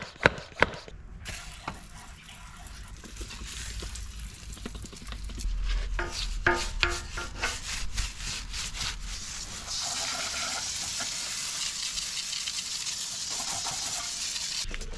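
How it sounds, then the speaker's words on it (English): Steering arms on a 7K-E swapped Corolla rub against the engine sump as the wheel turns. The scraping and grinding is close and fairly loud, growing busier partway through, with a couple of sharp knocks at the start. "So when I turn, I'm rubbing through my sump."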